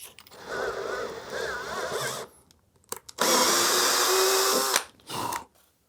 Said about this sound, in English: I'm gonna drill that a tiny bit bigger before I tap it.